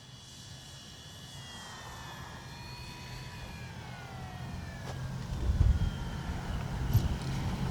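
An Arrows RC Bigfoot PNP model airplane flies overhead on a windy day, its electric motor whine drifting in pitch as it passes, moderately distant and steady, growing a little louder toward the end with bumps of wind noise.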